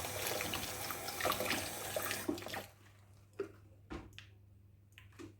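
Running water rinses a part from a dishwasher being cleaned, a close, steady splashing stream for a couple of seconds, then stopping, followed by faint drips and handling knocks.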